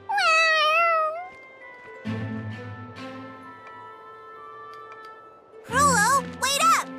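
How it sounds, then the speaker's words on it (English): A cat meows in the video game Tales of Xillia 2, a few drawn-out, wavering meows at the start and end, with quieter game sounds between them. "You hungry fat cat."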